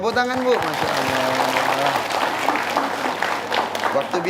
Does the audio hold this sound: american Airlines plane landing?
no